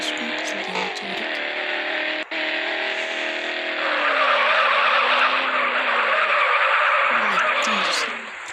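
Car drifting in the Madout2 video game, engine roaring steadily with skidding tire squeal that swells louder midway and holds for several seconds before easing off, with brief talk near the start.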